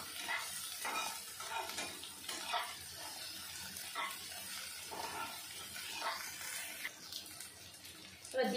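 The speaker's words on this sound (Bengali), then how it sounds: "মশলাটা সুন্দর করে কষে নেব।" Spice masala with turmeric powder frying and being stirred in a pan, a continuous close sizzle with scraping stirring strokes throughout.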